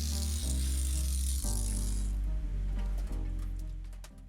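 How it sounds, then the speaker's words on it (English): An angle grinder cuts excess off a power steering hose, a loud continuous whine and rasp up close with a steady low hum, the cutting hiss fading as the tool winds down. "Now I'm just using the angle grinder to cut off the excess on the hose."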